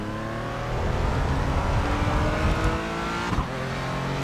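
In the iRacing video game, a Porsche Cayman GT engine drones with steady, loud harmonics as it pulls gently out of a corner at Road America, rising slightly in pitch with a brief blip near the end.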